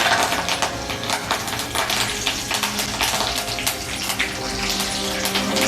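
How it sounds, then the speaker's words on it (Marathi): Curry leaves dropped into hot oil with cumin seeds while cooking vada pav filling, giving a loud, continuous crackling sizzle with dense popping throughout, close and alone. "यामध्ये आता आपण कढीपत्ता टाकून घेणार आहोत।"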